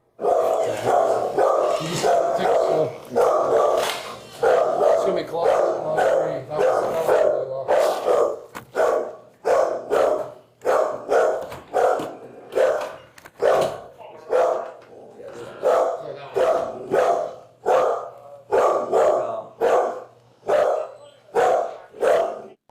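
A dog barks over and over in a long series of loud, close barks, sometimes in quick clusters, with people talking in the background.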